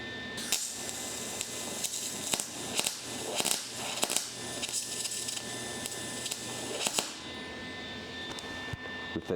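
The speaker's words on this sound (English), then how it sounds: "We're welding that shit." Welding on a car steering column: a crackling, hissing buzz in irregular sputtering bursts with short gaps, close and moderately loud, under a steady electrical hum, with no talk.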